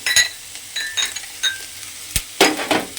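Garlic paste, then ginger paste, going into a hot pan of oil while cooking prawn malai curry, with short sizzling bursts and stirring scrapes and clinks, loudest near the end.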